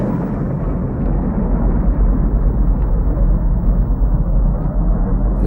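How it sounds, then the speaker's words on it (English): A supernova of a star about 100 times heavier than the sun is rendered as a sustained, heavy, deep rumbling roar, loud and unbroken, with faint crackles on top. "When a star 100 times heavier than our sun switches off, it goes with a bang."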